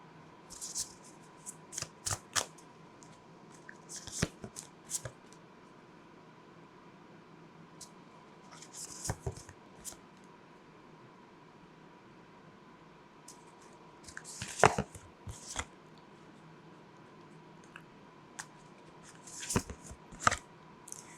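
Tarot cards handled and shuffled in scattered soft bursts of papery rustling and flicks, separated by quiet gaps over a faint steady hum, close but low in level.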